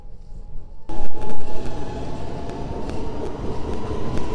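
A metro train in Izmir rumbles along with a steady loud rolling roar, rising suddenly about a second in and continuing with rattling clatter throughout.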